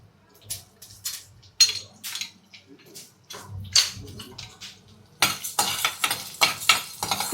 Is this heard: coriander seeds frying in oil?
yes